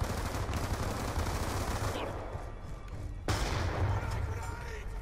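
Rapid, loud gunfire from a Call of Duty Black Ops 2 match runs throughout, with dense shots and explosive bursts and a sharp report near the middle. Someone speaks faintly under the action.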